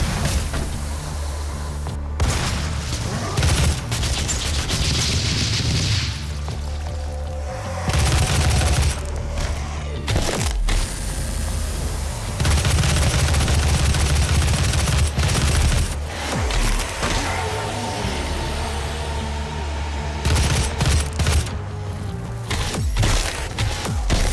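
Heavy weapon fire in DOOM (2016), loud booming blasts in irregular clusters with sharp attacks and rumbling decays, separated by short gaps of quieter combat ambience.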